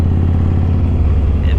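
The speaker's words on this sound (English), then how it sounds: "That's a big V-twin sound, and it sounds good." A Yamaha Road Star cruiser's 1700cc V-twin engine runs at a steady idle, a loud, close, low throbbing rumble that holds even throughout.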